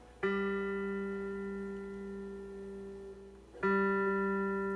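Two plucked notes on a 1992 Fender Stratocaster ring out, each sustaining with a slightly wavering, shimmering chorus-like quality from a pickup set too close to the strings; quiet and close, no talking.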